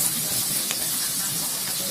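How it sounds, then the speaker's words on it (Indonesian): Chopped garlic and sliced onion sizzle in hot cooking oil and margarine in a pan, giving a steady, even hiss throughout. "Panaskan 2 sendok makan minyak goreng dan 1 sendok makan margarin, lalu tumiskan bawang putih cincang dan irisan bawang bombay sampai tercium bau harum."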